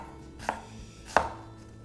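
A kitchen knife chops through onion on a cutting board while making tabbouleh, two distinct sharp knocks spaced apart, close and crisp against a quiet background.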